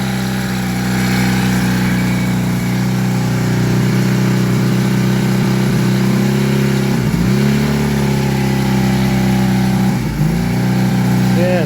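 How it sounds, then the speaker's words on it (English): A Honda CD 175 motorcycle engine idles high with a steady, loud, close drone. Its pitch dips briefly a couple of times, and it runs continuously without pause. "Yeah, it's idling pretty high."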